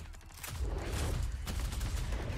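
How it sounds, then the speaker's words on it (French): Guns fired into the air for show in a Call of Duty trailer, a few sharp reports swelling into a loud, sustained roar of shooting and rumble. "les petits tirs dans le vide comme ça, juste pour le style"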